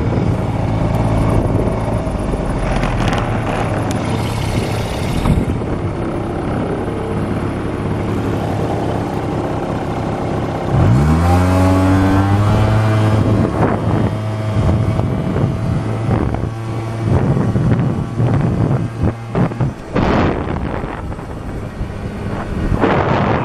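Airsal Sport 70cc scooter riding at speed, its small two-stroke engine droning loud and steady with heavy wind buffeting, and a rising pitch sweep as it accelerates midway.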